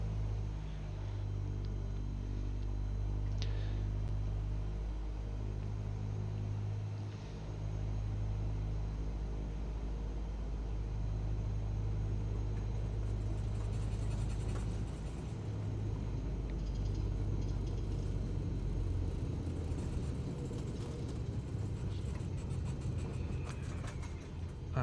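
A small aircraft taxis in a flight simulator, a steady low engine drone and rumble held throughout at moderate level, with faint background hiss and no talk.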